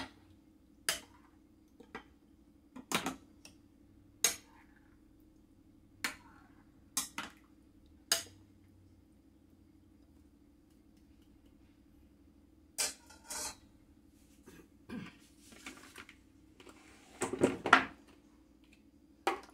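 Seasoned meat mixed in a bowl with utensils: sparse, sharp clinks and scrapes at irregular intervals, with a denser cluster of clattering toward the end, fairly close in a quiet room.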